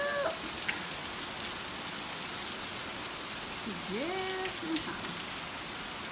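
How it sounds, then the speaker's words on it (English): Rain falls steadily outside a home as an even, hissing wash. A short spoken phrase and a couple of brief rising, meow-like tones sit on top of it. "Just in time to beat all this rain."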